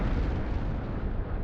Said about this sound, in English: There's the explosions.